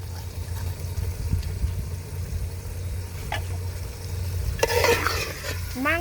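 Meat and potatoes frying for khichuri, stirred steadily in a pan with a continuous close sizzle, scraping strokes and occasional clanks of the spoon against the metal.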